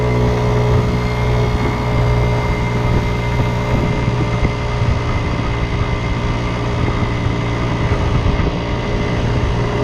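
A Kymco Agility 50 scooter engine drones steadily while riding, a constant buzzing hum up close with no voices.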